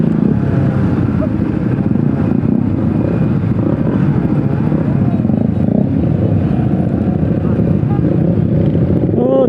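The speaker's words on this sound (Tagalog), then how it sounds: "Big bikes, oh. Grabe, oh. Daming motor kakabsat, napakasaya." Many big bikes and motorcycles ride past in a constant roaring engine drone that stays loud and close, with someone talking excitedly over it.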